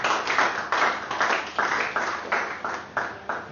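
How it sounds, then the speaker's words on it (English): Applause at a business meeting after a plan is adopted, a modest group clapping in loose, repeated bursts, close and moderately loud, with a slightly muffled, band-limited tone. "Please let's give a round of applause."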